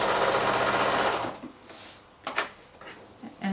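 Sewing machine stitching binding onto a quilt edge near a corner, a steady loud mechanical whir for over a second, then stopping, followed by brief fabric handling and soft clicks.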